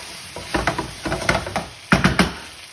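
Vegetable bhaji stir-fry sizzling in a pan as it's stirred, with several scraping pushes and bursts of frying crackle, close and fairly loud, no talking.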